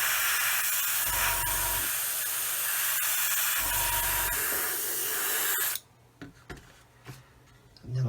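Future clear coat sprayed onto the wing of a 1/144 Roden C-141B Starlifter model, a steady close airbrush-like hiss running in long bursts before cutting off into near quiet with faint handling clicks.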